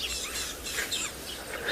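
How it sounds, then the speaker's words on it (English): Repeated high chirping calls of a tawny-flanked prinia at dusk on a safari, fairly faint and steady against an open outdoor background. "Might actually be a tawny flank prinia that's making that noise"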